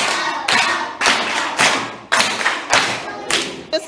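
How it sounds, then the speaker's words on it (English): Children in a classroom clap in short bursts, several loud rounds of applause one after another at a quick, uneven rhythm. "Let's clap for her."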